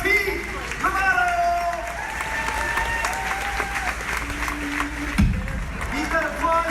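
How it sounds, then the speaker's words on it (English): An audience at a Disney stunt show applauds, a sustained wash of clapping from a large crowd while a host calls out over a loudspeaker, with a brief thump near the end. "Keep that applause going for all of our background extras!"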